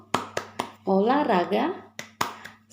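Sharp, spaced hand claps keep the beat of an Indonesian children's clapping chant, 'tepuk anak sehat', while a voice sings a chanted line between the claps.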